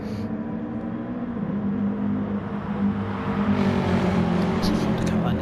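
Race cars lapping the Alsace circuit in Gran Turismo Sport, an Audi among them, with steady engine drone and a rising rev swell near the end, running continuously under a commentator's voice.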